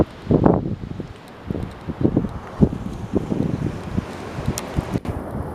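Wind blowing on a Pacific Ocean beach, gusty low rumbling buffets against the microphone in uneven surges, loud and close, with a soft wash of surf underneath and no speech.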